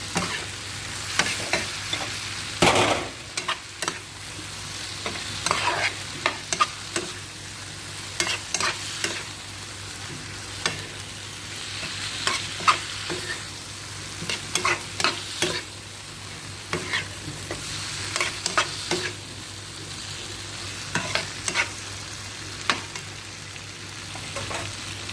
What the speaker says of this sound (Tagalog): ilagay ko na itong sausage ng amo ko. Haluin lang guys, ganyan.